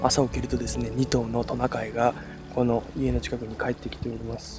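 A steady wash of flowing river water in a Russian forest in the morning runs beneath close, continuous talk from a single speaker.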